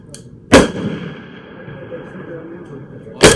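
Two sharp, loud AR rifle shots ring out outdoors at a 200-meter range, about three seconds apart, with quiet background hum between them.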